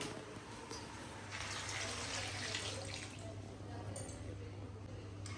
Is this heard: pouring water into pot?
yes